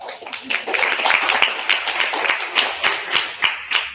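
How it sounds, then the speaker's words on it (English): Audience applause at a Women Techmakers Berlin International Women's Day event, steady close clapping from a modest crowd filling the room, with a faint voice underneath. "A round of applause for her."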